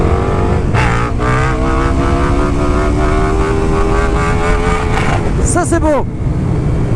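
A motorcycle engine roars close and loud as the bike accelerates hard, its pitch rising through second and third gear with quick drops at each shift, while a rider talks over it.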